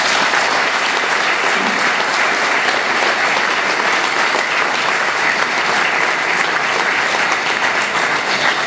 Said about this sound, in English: deserves a massive round of applause